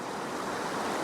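Several small waterfalls in a woodland gem near Pendleton, Indiana pour in a steady, dense rushing hiss that stays even and close, with no voices.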